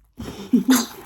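A newborn baby lets out a small, high sneeze after a short breath in, brief and close.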